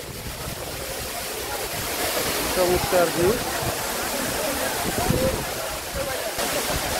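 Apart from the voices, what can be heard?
Dhuppani waterfall flowing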